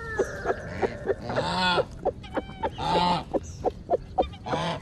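Geese honk repeatedly at close range, loud overlapping calls in bursts with short gaps, some honks rising and falling in pitch.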